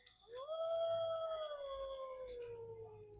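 An animatronic Halloween dog decoration lets out one long, electronic-sounding howl that rises, then slowly falls, steady and fairly close in a quiet store.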